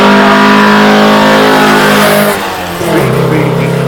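A Lancia accelerates hard up the Shelsley Walsh hill climb, its loud engine note holding steady close by, then dipping briefly and rising again as it pulls away.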